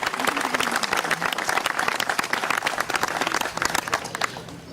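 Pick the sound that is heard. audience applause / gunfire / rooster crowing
audience applause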